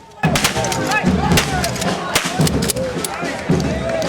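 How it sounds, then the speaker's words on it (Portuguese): Several sharp blank-round gunshot bangs ring out at irregular intervals during a Military Police parade in Vila Velha, over a noisy outdoor crowd, loud and echoing. "a homenagem contou com tiros de festim no desfile da Polícia Militar"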